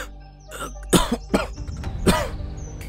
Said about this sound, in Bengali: তারপরে সমানে কাশছে।